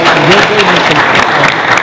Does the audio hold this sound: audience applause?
yes